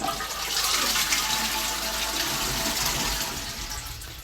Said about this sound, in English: that was the sound of my toilet flushing